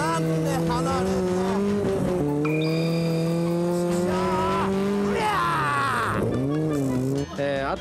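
Midget race cars lap a track, their engines droning and whining as the pitch rises and falls through gear changes, with a commentator talking over them throughout.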